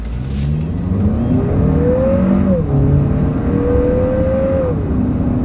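A Lexus NX 350 SUV with a turbocharged four-cylinder engine accelerating hard from a standstill on a straightaway, its loud engine note climbing steadily through two gear shifts, heard from inside.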